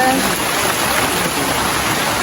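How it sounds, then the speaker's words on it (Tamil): Heavy rain pours down in a steady, dense hiss that stays even and loud throughout, with no other clear sound rising above it. "நல்லா மழை பெய்யுங்க"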